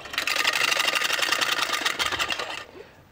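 Motorcycle stage effect made by spinning half a bicycle: a dense, buzzing mechanical rattle that runs loud and steady for about two and a half seconds, then slows and fades away.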